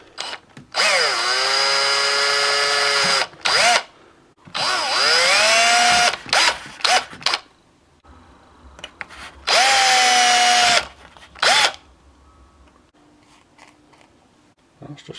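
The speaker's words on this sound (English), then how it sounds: "I've got a smaller drill bit now," Small 0.25 mm bit in a power drill boring through a fiberglass circuit board, several loud whining bursts of a few seconds each with short pauses between, spinning up and down.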